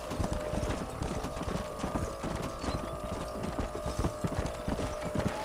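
Rapid clip-clop of several galloping horses' hooves in a video game, loud and close, pounding steadily with a faint rumble underneath and no voices.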